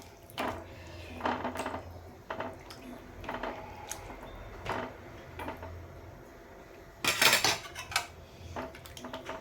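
Cooked chickpeas crushed in a pot for Punjabi chole, a series of soft, uneven thuds and scraping knocks of a utensil against the pot, with one louder metallic clatter near the end, in a quiet kitchen.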